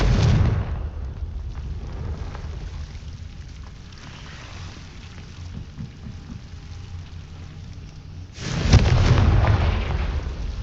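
Confringo explosive spell in the Hogwarts Legacy video game: a loud fiery blast at the start, a lower rumbling stretch of game ambience, then a second heavy explosion bursting in near the end.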